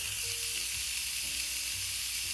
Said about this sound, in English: First thing we're gonna do is vent.